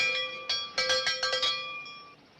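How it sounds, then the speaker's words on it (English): A cowbell rung by pulling a clothesline, clanging as a signal in a quick series of about six or seven bright metallic strikes, fairly near, then ringing out. "clothesline to the cowbell so's I could signal you from the coach"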